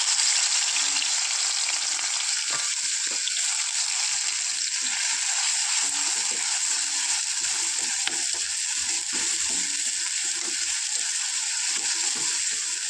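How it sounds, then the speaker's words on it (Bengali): Chopped onion and garlic fry in hot oil with a steady, loud broadband sizzle that runs the whole time, with occasional faint clicks of stirring and no talk. "কুটা পেঁয়াজ রসুন দিয়ে দিচ্ছি"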